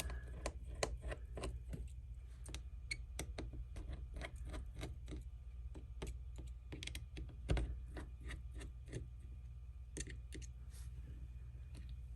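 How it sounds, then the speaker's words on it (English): Small screws are taken out of a Samsung Galaxy S21 Ultra during a screen repair, producing quiet, rapid clicks and ticks in an irregular rhythm against a low hum. "I'll finish taking out these screws."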